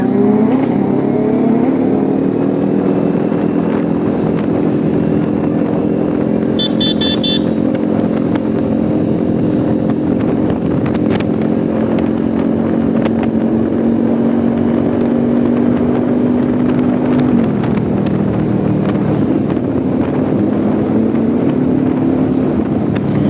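A Kawasaki ZX6R sportbike accelerates hard through the gears up to third, its loud, close engine note rising and dropping with each shift over steady wind rush.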